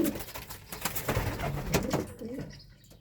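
Close, soft coos of racing homing pigeons rumble through a few seconds of broadband rustling and shuffling, fading toward the end.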